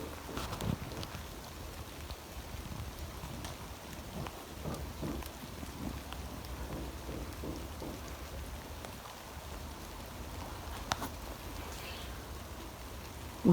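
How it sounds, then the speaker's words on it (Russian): Rain begins falling outdoors in a garden near a large chestnut tree, a faint, steady patter of scattered drops against a soft background hiss, with no voices. "Дождь начинается."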